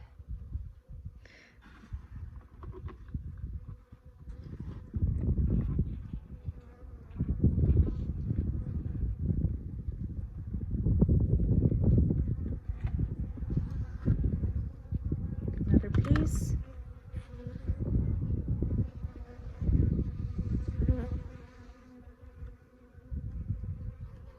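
Bees from a colony being removed from under a shed floor in Arizona buzz steadily and close, rising and falling in intensity across the whole stretch, with occasional handling noises mixed in.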